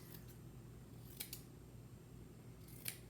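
Scissors make a few faint, crisp snips through soft quilting fabric, spaced out over a low steady background hum with no speech.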